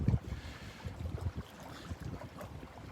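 A breezy north wind buffets the microphone on a beach at Delnor-Wiggins, a low, gusty rumble pulsing in uneven bursts.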